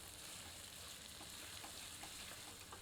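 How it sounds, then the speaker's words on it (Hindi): Onions frying in oil over medium heat for a jackfruit masala curry, a steady, even, hissing sizzle with faint crackles throughout, no voices. "इसे मध्यम आंच पर भूनकर सुनहरा कर लेते हैं"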